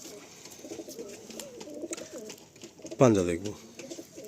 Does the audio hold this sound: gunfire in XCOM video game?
no